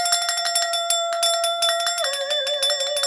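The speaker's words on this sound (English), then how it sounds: "Did I ring my bell today?" A bell rings repeatedly in quick, steady strokes, its bright sustained tone shifting slightly in pitch partway through, loud and close with no talking.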